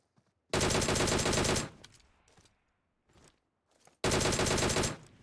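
Automatic gunfire in a first-person shooter game, two loud sustained bursts of rapid shots separated by a quiet gap with faint scattered clicks and thuds.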